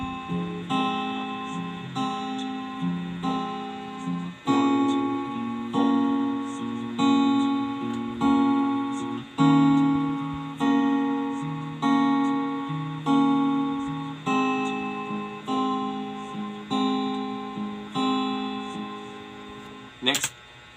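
Acoustic guitar fingerpicks the verse of a song in a steady, gently rolling pattern of plucked notes and chords, close and moderately loud, with a faint background hum.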